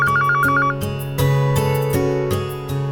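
A telephone rings in an office setting with a bright electronic tone that repeats in a pulsing pattern over a melodic ringtone, loud and close, with no voices over it.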